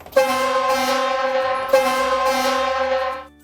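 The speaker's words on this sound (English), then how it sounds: "probably one of the coolest things for a lot of you is the air horn, which is right here" Two long, loud blasts of a fire engine air horn sound close by, each a steady, brassy honk held for over a second.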